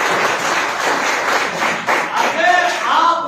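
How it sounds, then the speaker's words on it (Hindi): A church congregation claps together in thanks to God: a steady, dense wash of many hands filling the room, with a voice faintly heard over it toward the end. "ताली बजा के परमेश्वर को धन्यवाद।"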